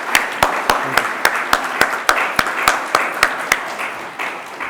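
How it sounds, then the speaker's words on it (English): An audience applauds after a special address by Iran's Foreign Minister Mohammad Javad Zarif, with loud, fairly sparse individual claps ringing out in an irregular rhythm that thins slightly toward the end. "I would like to request all my friends in the audience to join me in applauding the masterful oration"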